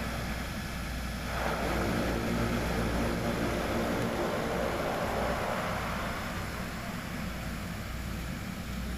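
A small passenger airplane taxis to parking after landing at Oecusse's Rota do Sândalo airport on a flight from Dili, heard from inside the cabin as a steady, loud engine and propeller drone with no break.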